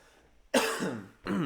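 Two harsh, close coughs, one loud burst followed by a shorter second cough after a brief pause.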